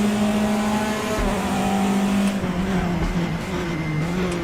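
Audi race cars battling in a RaceRoom video game race at Sonoma, with a steady, loud engine drone whose pitch shifts as the cars accelerate and lift, plus brief low thumps.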